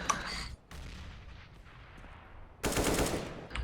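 Gunshots in CS:GO, a quick burst of rifle fire at the start, then a quieter gap, then another loud crackling burst of shots near the end.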